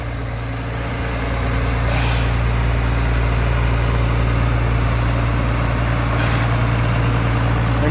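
Combine harvester engine idling before wheat harvest, a steady loud low drone with constant humming tones, close and unbroken throughout, no talking.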